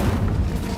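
A fire spell cast in the Hogwarts Legacy video game, a deep booming whoosh of flame that rumbles loudly and steadily through the whole short moment with no voices.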